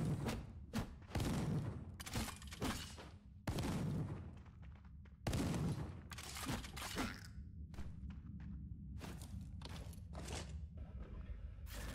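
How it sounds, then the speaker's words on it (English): A shotgun fires repeatedly in Death Trash, with heavy, booming blasts at uneven intervals over several seconds, each followed by a short rumbling decay, plus scattered thuds between shots. "Oh, that's a shotgun!"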